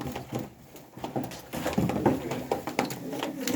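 Pigeons in a bird keeper's loft, soft cooing and fluttering close by at a low level, with scattered pattering.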